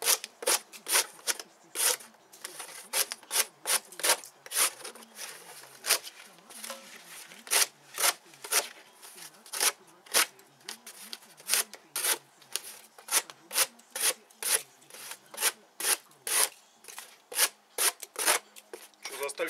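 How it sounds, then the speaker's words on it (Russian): A Victorinox Hunter XS knife with its factory edge slices through cardboard in a long series of sharp, rasping strokes, a steady rhythm of close, distinct cuts running throughout. "Давайте его попробуем на картоне"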